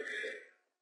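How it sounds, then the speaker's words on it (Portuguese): A single short throat-clearing cough comes from a man with flu during a presentation on free radicals. It is close and fairly soft, then fades quickly to silence, with no speech. "estou tossindo um pouquinho ainda"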